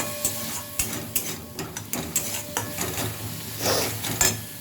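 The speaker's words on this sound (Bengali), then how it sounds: "অল্প অল্প করে জল দিতে থাকবো আর কষাতে থাকবো" Spice paste being stirred and sautéed with small splashes of water for a stingray kosha, a soft sizzle broken by repeated spatula scrapes and clacks against the pot, with a brief hissing burst near the end.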